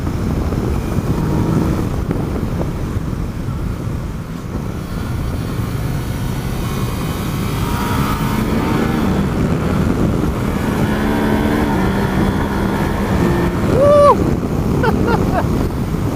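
Yamaha NIKEN three-wheeled leaning motorcycle engine under way on a damp road, a steady broad rumble blended with heavy wind buffeting over the microphone throughout.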